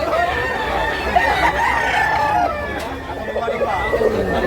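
Roosters crow repeatedly at a busy rooster market in Tabunok, Cebu, several birds overlapping with clucks and chatter close by, while people talk over the noise.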